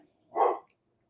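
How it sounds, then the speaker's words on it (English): A single short, close dog bark rings out in a quiet indoor room, sharp and alone, with no voices over it. "that's my dog, I apologize"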